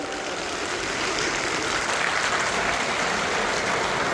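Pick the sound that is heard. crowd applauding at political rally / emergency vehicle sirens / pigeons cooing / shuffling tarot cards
crowd applauding at political rally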